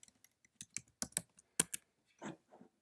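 Keys clack on a computer keyboard as an odometer reading is entered, a quick uneven burst of close, sharp taps with short pauses between them and no voice.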